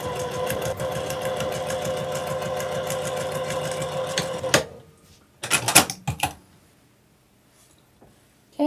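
A sewing machine runs a steady rapid stitch along a quarter-inch seam joining white pieces of a quilt block, with a back stitch, then stops after about four and a half seconds, followed by a few short clicks and handling noises.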